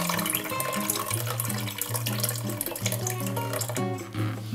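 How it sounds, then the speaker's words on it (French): Running water pours steadily as cooked vermicelli is drained after being cooled. The flow is moderate and continuous and sounds close, with no voices over it. "Il est bien refroidi et maintenant je vais l'égoutter."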